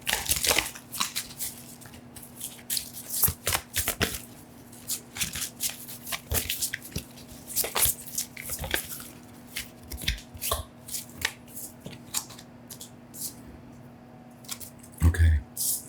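Tarot cards shuffled by hand in a run of crisp riffling, slapping bursts, with brief pauses between flurries and a final sharp flick as cards are drawn; close and clear with a steady low hum beneath and no talk.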